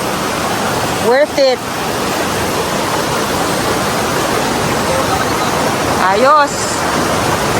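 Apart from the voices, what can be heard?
Mother Falls waterfall rushing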